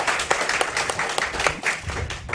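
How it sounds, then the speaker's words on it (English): Crowd applause at an investment summit in Belize, a dense steady patter of many hands clapping together for the full stretch, fairly loud and close with no speech over it. "Can we give these two women a round of applause?"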